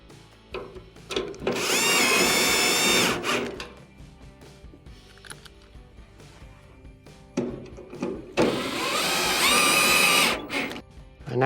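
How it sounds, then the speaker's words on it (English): A power driver drives two screws into a Whirlpool dryer's panel, two loud whirring bursts of a few seconds each separated by quieter handling noises. "Install your 2 screws."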